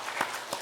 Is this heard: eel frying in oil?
no